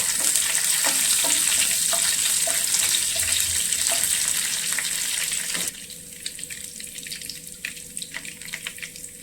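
Cumin seeds and curry leaves frying in hot oil give a steady, close hiss with small crackles and pops throughout. About halfway through the sizzle drops to a quieter, thinner level.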